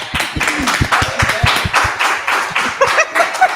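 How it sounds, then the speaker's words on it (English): A small crowd claps in rapid, uneven bursts close by, with scattered cheers and a few voices mixed into the applause. "big round of applause"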